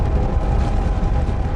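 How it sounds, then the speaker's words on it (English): Mount St. Helens volcanic eruption, a colossal explosion heard as a loud, continuous low rumbling roar, dense and sustained throughout without distinct separate blasts. "It releases millions of tons of magma in a colossal explosion"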